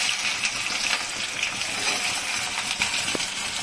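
Onion sizzles in hot oil in a pan, added after chopped garlic while cooking egg bhurji; a steady close hiss with small crackles and pops throughout, with no talking.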